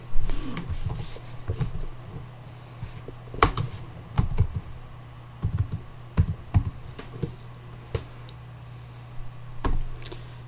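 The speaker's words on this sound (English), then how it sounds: "Let's type in sudo password." Close computer keyboard typing in short irregular bursts of crisp key clicks over a low steady hum, entering a sudo password in Kali Linux running in VirtualBox.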